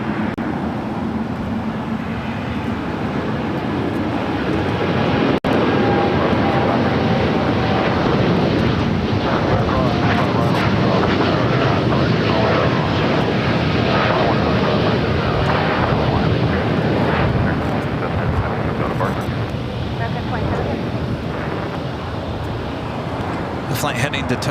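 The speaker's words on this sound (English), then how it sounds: "Flight heading to Tokyo Haneda in the 787-8 Dreamliner" A Boeing 787-8 Dreamliner at LAX, bound for Tokyo Haneda, fills the air with a loud, steady jet-engine roar that holds for the whole stretch, with wind buffeting the microphone.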